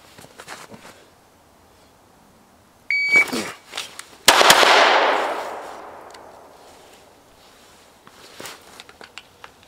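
Two sharp handgun shots fired from a crouch during a concealed carry drill, a quick close pair followed by a long fading echo and then quiet with faint clicks.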